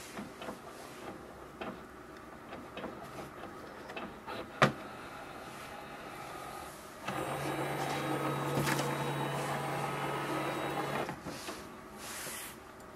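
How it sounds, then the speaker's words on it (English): A Canon Pixma TS3450 inkjet printer scans a document with a soft mechanical hum and whir that rises for several seconds in the middle, plus a sharp click beforehand and quieter motor noise around it. "click on the scan button and it will start the scanning"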